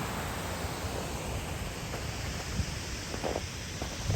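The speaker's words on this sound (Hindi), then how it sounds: "लेकिन ये थोड़ा बड़ा रिवर है तो इसमें पानी चलता ही रहता है ऐसे।" Continuous broadband rush of a large river flowing steadily, an even, unbroken wash of moving water with faint scattered splashes, heard at a moderate distance and without talk.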